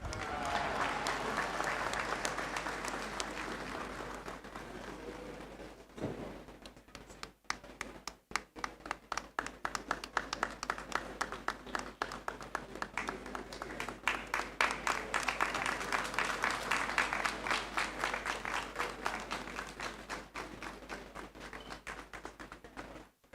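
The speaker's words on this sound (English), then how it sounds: "Shall we give him another round of applause, please?" Audience applause fills a Great Hall during a university congregation ceremony, a sustained dense clapping that briefly thins around the six-second mark then swells again, continuing steadily to the end.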